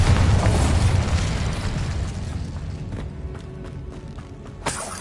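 A Bombarda blasting spell explodes in a Hogwarts video game, a loud booming burst that rumbles and fades over several seconds, with a smaller impact near the end.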